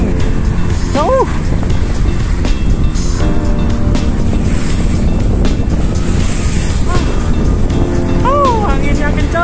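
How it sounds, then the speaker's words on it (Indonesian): Strong wind buffeting a microphone while cycling on a road ride from Zhunan to Hsinchu to Zhongli, a loud continuous roar throughout with passing traffic noise and brief squeaks. "Anginnya kencang."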